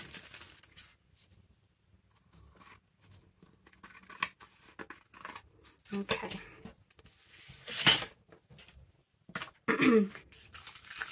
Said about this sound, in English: I'll just cut that one.